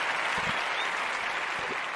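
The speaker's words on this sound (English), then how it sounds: "we want to give them a round of applause." A crowd applauds at a toast gathering, a steady broadband patter of many hands with a few sharper individual claps close by, continuous and fairly loud with no speech.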